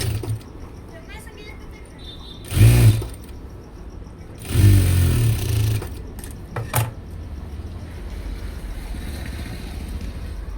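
A sewing machine stitches a padded blouse in short, loud mechanical bursts, separated by quieter stretches while someone talks.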